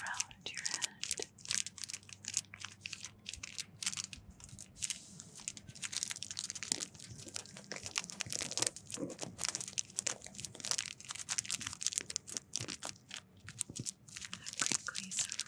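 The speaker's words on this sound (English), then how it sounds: "Crinkly cellophane" Cellophane wrapper on a Perdomo 10th Anniversary Champagne cigar crinkling close up, with dense crackling and rustling throughout and a quiet voice murmuring underneath.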